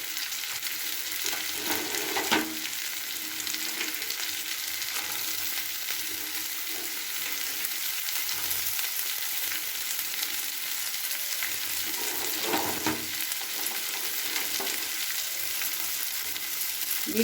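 Vegetables fry in a pan for pasta soup, a continuous loud sizzle running throughout, with occasional soft stirring scrapes, close and with no talking.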